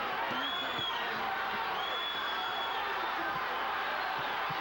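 Boxing arena crowd at the James Toney vs. Michael Nunn middleweight title fight, a steady roar of cheering with scattered whoops and whistles, continuous and fairly distant throughout.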